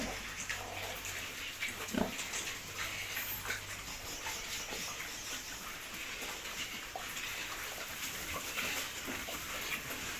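Pigs in a backyard pen grunt and snuffle softly and intermittently, with a faint, slightly louder grunt near the start, set against a quiet, noisy outdoor background with no clear talking.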